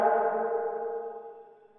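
Reversed vocal fed through an Outer Space tape echo plugin set to reverb only, giving a single sustained tonal swell that hangs and slowly fades away in a smooth reverberant tail, with no voice speaking.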